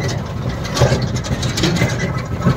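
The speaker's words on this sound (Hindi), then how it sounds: "ड्राइवर साहब ट्रैक्टर चला रहे हैं और लेके जा रहे हैं" A loaded tractor carrying people to a village Holi celebration in Bihar rumbles along with a steady, low engine drone, moderately loud and continuous, with faint background noise and no clear talk.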